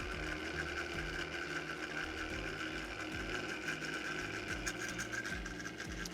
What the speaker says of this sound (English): Now we can begin our first step for emulsification, which is blending all this together.